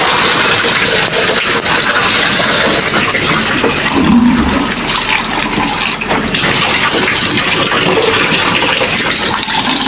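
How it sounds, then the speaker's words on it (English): Fresh, clean tap water gushes and runs for a salt bath, a loud, steady rushing flow that lasts the whole stretch with no talking. "I'm flushing the water, I will dump the tap"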